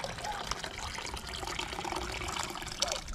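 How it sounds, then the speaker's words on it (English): Fresh water pours into a pot during outdoor cooking in the rain in Jamaica, a steady close trickling and splashing stream lasting a few seconds. "So you just pour into some fresh water in there"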